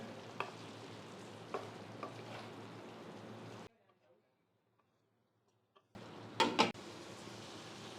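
Chicken fries in a pan over a medium-low flame, a close steady sizzle with occasional stirring scrapes, cut by a couple of seconds of near silence before resuming.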